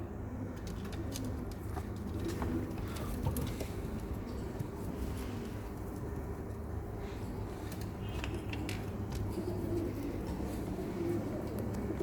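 Pigeons cooing softly in a loft over a constant low rumbling background, the calls faint and blended throughout, with no talk.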